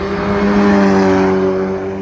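Race cars at the Nürburgring, ranging from a BMW S54-engined car to Golfs, Audis, TCR and GT4 machines, roar in a steady, loud engine drone with a sustained tonal whine held throughout.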